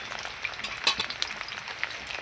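Hilsa fish wrapped in banana leaf frying in a covered pan over a wood fire, giving a soft, steady sizzle with scattered crackles that stays fairly quiet and close throughout, with no voices.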